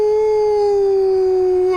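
A person imitates a werewolf howl, blending a wolf-like howl with a scream: one sustained, steady, loud tone held close for almost two seconds, bending slightly near the end.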